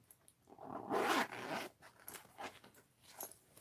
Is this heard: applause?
no